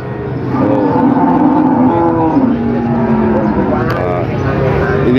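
Cattle at a village livestock market for young feeder cows in Pati, Indonesia, lowing loudly and continuously in long overlapping moos, close by, with market noise underneath.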